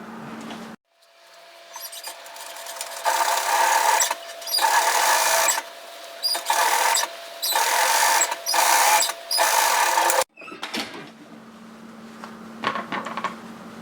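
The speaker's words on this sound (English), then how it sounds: "stitch the hem of that sleeve into place through the overlocking line to create an area for our elastic to be thread through" An electric sewing machine stitches a puff-sleeve hem along the overlocking line in repeated close, loud runs of rapid whirring, broken by short pauses and ending with a low hum and light handling noises.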